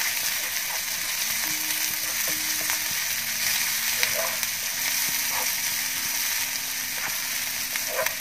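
Curry leaves frying in hot oil in a pan, a loud continuous sizzle with occasional scrapes and knocks as they are stirred, no voices over it.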